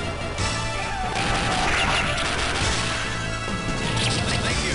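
Game sound effects from Metal Slug Advance on the Game Boy Advance: dense, continuous crashes and bursts of gunfire and explosions, loud and busy throughout, with no talking.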